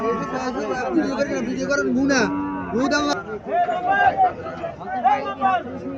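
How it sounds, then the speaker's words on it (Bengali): Cattle moo repeatedly at a busy cattle market in Cumilla where a Sahiwal bull calf is on sale, the drawn-out calls rising over a constant babble of nearby voices and crowd chatter. "এখানে একটা সাইওয়াল জাতের বাছুর দেখা যাইতেছে।"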